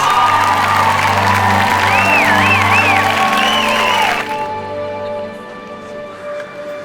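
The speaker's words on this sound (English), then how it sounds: "One more round of applause for our big winners." Crowd applause and cheering for winners at a children's singing contest, energetic clapping with whoops and shouts over lingering music, then cutting off abruptly to a quieter room tone.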